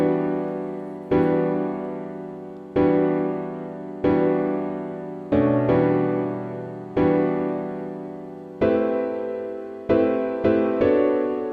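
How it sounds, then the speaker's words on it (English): Piano chord progression from Nexus, loud block chords struck one after another at a slow, steady pace, each ringing and decaying before the next, with a few quicker changes near the end, alone. "this beat actually started out with a piano progression from Nexus,"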